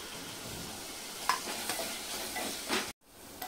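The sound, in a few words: chopped onion being stir-fried in a pan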